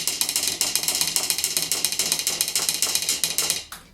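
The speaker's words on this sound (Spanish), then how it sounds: "la cajita china que habíamos visto antes, que no suena muy corta, es un sonido muy impulsivo. Si yo la golpeo muchas veces de manera seguida" A Chinese wood block is struck rapidly many times in quick succession, giving a dense stream of short, sharp clacks at an even fast rhythm that stops abruptly.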